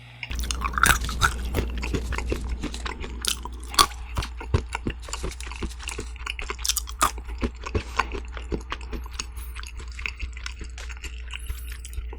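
Close, wet chewing and crunching of squid and chicken heart skewers in a Korean pub-food setting, with steady mastication, soft bites and occasional slurpy, sticky mouth sounds, no talk.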